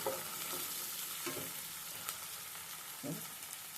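Tomato and fish pieces cook in a pan with a steady, soft sizzle and a few brief stirring scrapes, heard close and alone.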